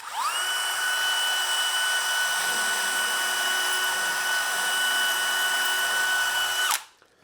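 A power drill boring a 3/16-inch hole in aluminum panel for a Factory Five MK4 Roadster build, with a steady high motor whine held for about six and a half seconds before spinning down abruptly, loud and close.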